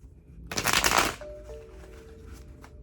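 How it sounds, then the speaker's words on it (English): Tarot cards are riffled in one quick, close burst of crisp shuffling, followed by a few soft taps and quiet handling. "Okay, one more shuffle."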